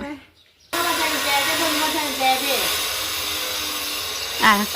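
A blender whirs steadily, blending a sweet syrup drink, starting abruptly after a brief quiet moment and running loud and continuous with small pitch shifts, while voices speak over the motor.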